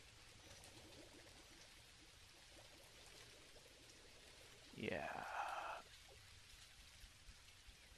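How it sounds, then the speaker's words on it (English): Steady rain falls in the video game Dinkum, a soft continuous patter spread evenly across the whole stretch, with a short spoken word in the middle rising above it. "It is a rainy day."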